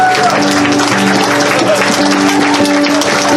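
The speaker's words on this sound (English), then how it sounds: "Give her a round of applause!" An audience at a furry convention charity event applauds, with loud, steady clapping from a crowd mixed with cheering and chatter throughout.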